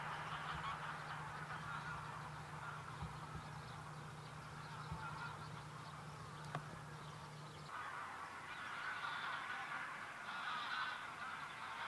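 A large flock of geese and ducks on lagoons in winter gives a steady, dense wash of honking and quacking that carries on without a break. A low hum runs underneath for the first part.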